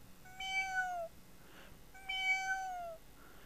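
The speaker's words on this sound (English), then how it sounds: "your cat Marmaduke is at the window" A house cat meows twice at a window, two clear, drawn-out meows about a second apart, fairly close, with nothing else heard.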